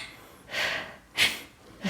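Two or three sharp, breathy inhalations taken as a demonstration during a singing lesson, each a short, close hiss of air separated by brief pauses, with no talking.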